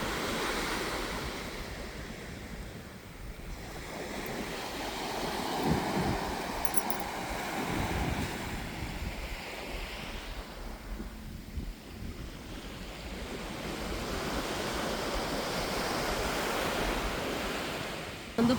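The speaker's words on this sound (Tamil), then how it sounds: "கடல் ஓரத்தில் கடல் சவுண்டு மட்டும்தான் கேட்கும்," Sea waves wash onto the shore in the early hours, a continuous rushing surf that swells and recedes in slow cycles, mixed with wind buffeting the microphone and no voices.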